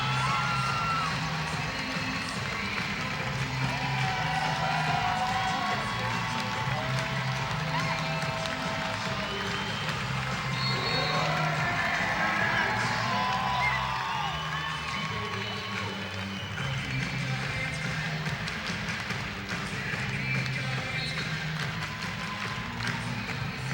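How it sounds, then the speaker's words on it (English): A crowd at the Scotiabank Centre in Halifax roars and cheers through a NBL Canada basketball game between the Halifax Hurricanes and Island Storm, a sustained loud wash of voices with whistles and shouts, while a commentator talks over it. "The Scotiabank Center crowd will take us the rest of the way to the Horn"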